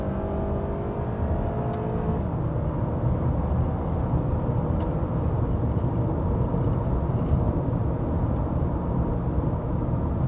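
An Acura TSX drives through a turn, its engine giving a steady, low drone with road and tyre noise heard from inside the cabin, continuous and even with no talking.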